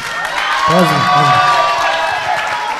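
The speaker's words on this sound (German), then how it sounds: "Ja, Applaus, molim." Audience applause and cheering at a live broadcast of an international Roma youth meeting in Ohrid, Macedonia, a dense steady wash of clapping from a crowd with a brief voice rising through it.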